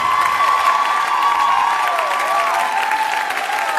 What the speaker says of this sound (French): on peut l'applaudir encore, Vianney